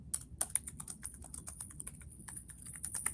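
Someone types a written response on a computer keyboard, a quick irregular run of crisp key clicks heard close up and alone, with a few slightly louder taps scattered through the stream.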